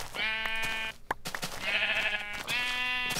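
A white sheep in the Minecraft video game gives three loud, close, wavering bleats. Each one is harmonically rich, and there is a short gap after the first. No one talks over them.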